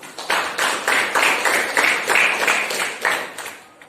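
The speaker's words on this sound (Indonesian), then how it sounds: "Oke, tepuk tangan untuk kita semua." Class clapping in unison during an Islamic religious education teaching practice, about a dozen rhythmic, evenly spaced claps in a steady beat, close and clear, slowing and fading at the end.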